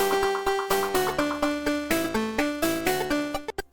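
Taiko drum rhythm game chart playback: a steady sequence of drum hits over backing music, ending in a rapid drum roll of quick successive strikes.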